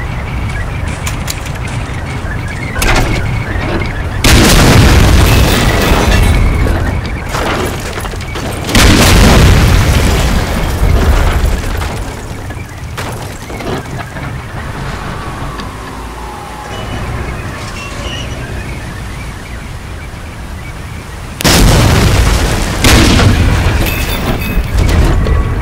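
A German 88 mm gun in the Normandy fields of Medal of Honor Spearhead fires in several loud, heavy booms, each followed by a long rumbling decay, over a constant din of battle.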